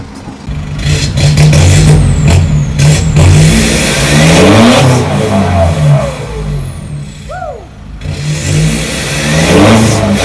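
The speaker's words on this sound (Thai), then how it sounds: "ท่อดังโคตรโหดไปฟังดีกว่านะครับ" A modified car with a loud aftermarket exhaust revs hard up close, the engine roaring in repeated swells, dipping briefly near the end before surging again, with no talk.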